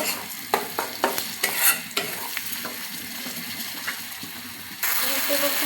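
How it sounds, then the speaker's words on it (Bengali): Chili powder masala for pangas fish is stirred and fried in a pan, sharp scraping stirs over a steady sizzle up close, ending in a louder, brighter burst of frying. "মশলাটাকে ভালোভাবে কষিয়ে নেব"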